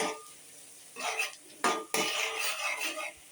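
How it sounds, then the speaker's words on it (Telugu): Chopped onions frying in a pan while a metal spoon stirs them, bursts of scraping and clinking against the pan over a soft background sizzle, close up. "ఉల్లిపాయలు బాగా ఫ్రై అవనివ్వాలండి."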